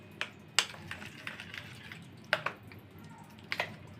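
A flour and vegetable batter for atta chilla is stirred with added water, giving wet, irregular splats and soft clicks at close range against a quiet background.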